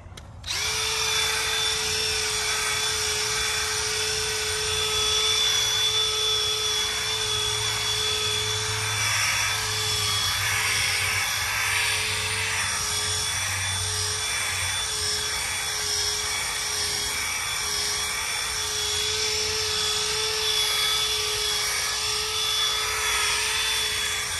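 Car polisher with a foam polishing pad and compound runs steadily for auto detailing, a loud, continuous high-pitched motor whine with a fixed tone and slight shifts in load as the pad works the surface.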